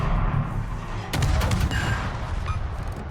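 Naval gunfire in World of Warships during an Orkan match: a sudden loud broadband salvo lands about a third of the way in, followed by a few more sharp cracks over a dense, rumbling background of continuous battle noise.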